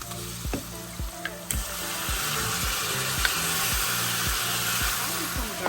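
Mutton and bitter gourd fry in a pan with a little oil, giving a steady, close, full sizzle with a regular run of soft stirring knocks beneath it.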